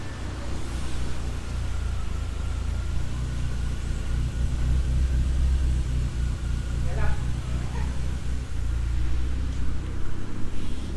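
A rebuilt 1.8T engine in a Mk2 idles just under 1000 RPM with a slight lump, a steady, close, low rumble throughout, with a brief voice over it.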